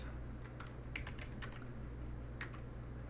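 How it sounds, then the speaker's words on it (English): Keys tapped on a computer keyboard in a short burst of soft, uneven clicks over a low background hum, with no one speaking. "I'm going to type in CMD here"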